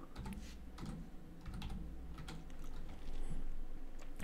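Steady typing on a computer keyboard, a string of quick, close key clicks with short pauses, growing slightly louder toward the end, heard alone with no voices.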